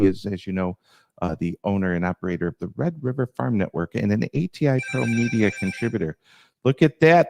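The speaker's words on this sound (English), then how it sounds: "That's my phone ringing." A mobile phone rings with a bright, repeating electronic ringtone partway through, heard under a man's continuous speech and fairly close.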